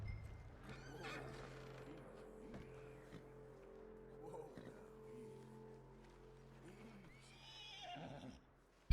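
A horse in the Red Dead Redemption 2 video game snorts and whinnies over a low game drone, with hoof clip-clops and a voice speaking briefly. A sharper neigh comes near the end.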